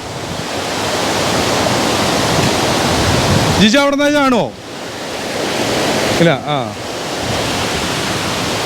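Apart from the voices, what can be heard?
waterfall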